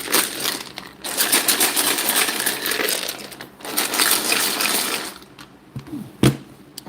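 Shuffling makes a dense, rattling, papery clatter that runs in bursts with short pauses between them, close and fairly loud, ending with a sharp tap.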